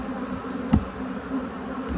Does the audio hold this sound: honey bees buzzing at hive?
yes